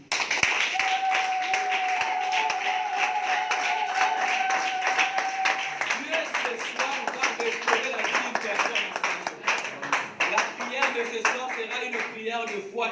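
A church congregation claps in acclamation during a service, with many hands beating in a dense, rhythmic patter. Voices and a sustained tone run underneath the clapping.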